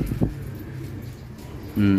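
Soft pigeon coos sound close by in a pigeon loft, a short one at the start and a fuller throaty coo at the end, with quiet background noise between.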